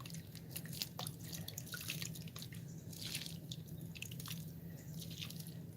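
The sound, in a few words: watering sprouting bok choy seedlings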